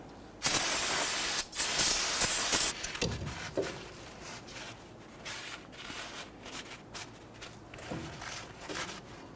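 Two loud bursts of aerosol cleaner spray, close up, each about a second long, followed by quieter rubbing and wiping sounds, while servicing a Nissan Frontier's front wheel hub.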